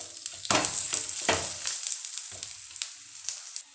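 An aloo pyaz paratha crackles loudly in ghee on a tawa, with bursts of hissing as it is flipped, then a softer sizzle that fades.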